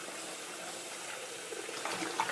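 Hot water running from a tap into an aquamassage therapy cushion, a quiet steady hiss of flowing water with slight gurgling near the end.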